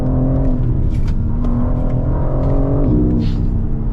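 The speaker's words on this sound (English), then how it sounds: "the gear shifts sound crazy" A new BMW M4 G82 with a ZF automatic gearbox drives hard, its engine a loud, steady droning roar with rising pitch and a shift step near the end, all heard from inside the car with no talk.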